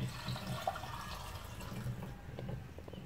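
Water pours and trickles into a container while mint, cucumber and honey juice is being made, a steady low splashing gurgle heard close up and fairly quiet, with no talking.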